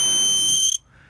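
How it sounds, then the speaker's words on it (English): Snap Circuits electronic alarm set off by a phototransistor wind detector, a loud shrill high-pitched buzzing tone that sounds steadily, then cuts off abruptly, leaving quiet background. "the light can reach the phototransistor and trigger an alarm"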